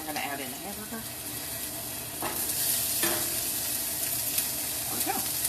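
Ground hamburger meat frying with onion in a lightly oiled pan sizzles continuously while a utensil stirs and scrapes it around, the hiss swelling louder midway through.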